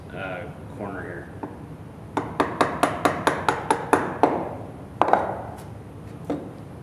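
Woodworking chisel driven with a series of about nine sharp, evenly spaced mallet strikes to pare a small slice from a mortise corner, loud and close, followed by a couple of heavier isolated blows; a voice talks briefly at the start.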